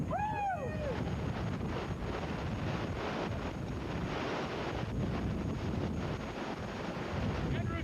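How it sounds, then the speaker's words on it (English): Strong Hurricane Andrew winds, gusting to about 75 mph, roar continuously, buffeting the microphone in heavy, unbroken gusts, with a brief squeal near the start. "Wind gusts have been up to about 75 miles an hour."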